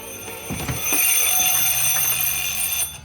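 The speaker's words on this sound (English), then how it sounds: "I had to set my Donald Duck alarm specially" A Donald Duck alarm clock rings with a steady high bright electronic tone, loud and close, that holds for a few seconds before stopping abruptly.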